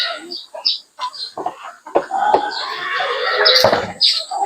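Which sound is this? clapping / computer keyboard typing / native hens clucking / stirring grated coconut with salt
native hens clucking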